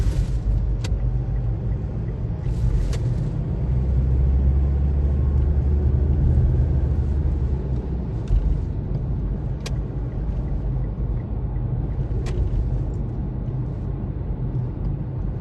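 Highway traffic in Gapan City, Philippines, where parked vehicles narrow the road: a continuous low rumble of engines and tyres, with vehicles passing steadily nearby and no talk.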